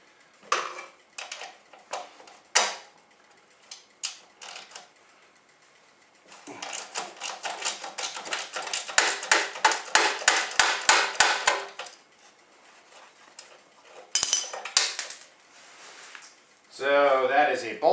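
Ratcheting and clanking of a socket wrench on a bolt of a 1965 Yamaha Campus 60, with scattered metallic taps, then a long dense run of rapid clicks, close and loud, followed by a few more sharp clanks.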